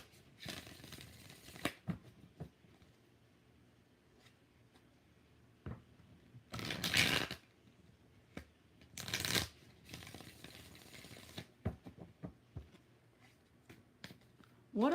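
Tarot cards being shuffled in several short, crisp bursts of riffling and flicking separated by quieter pauses, close and fairly faint, with small handling clicks in between.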